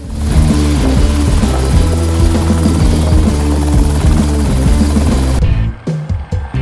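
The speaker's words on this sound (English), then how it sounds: "This is the first untethered, fully battery-powered flight of a helicopter with an electric tail motor" A fully battery-powered helicopter with an electric tail motor flies untethered, its rotor giving a loud, steady rhythmic chop with engine whine, then cutting off abruptly near the end into choppier, fading sound.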